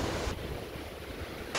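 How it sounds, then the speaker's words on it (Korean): Strong sea waves and gusting wind at Pagudpud in the far north of the Philippines, with rain in the air, make a loud, broad, continuous roar buffeting the microphone. "파도는 어제보다 더 세졌고"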